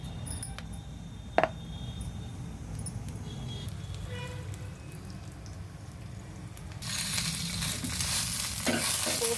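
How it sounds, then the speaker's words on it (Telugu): Cumin and mustard seeds frying in hot oil for a dal tempering give a steady close sizzle and crackle, with a faint sharp pop early on and a brighter, louder hiss toward the end. "పోపు బాగా వేగిపోయింది కదా"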